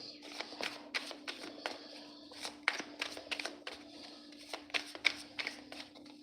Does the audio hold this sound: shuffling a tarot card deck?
yes